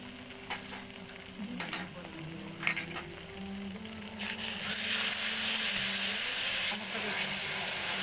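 Ginger, cumin and dried chili paste frying in a little hot oil for a home-style meat curry, a steady sizzle that swells louder in the second half, with occasional scraping stirs.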